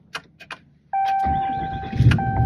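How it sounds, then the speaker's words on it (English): A pickup truck's engine cranks and catches after a few faint clicks, then idles with a steady whine and rumble, heard up close inside the cab. "Well, I'm going to start this truck."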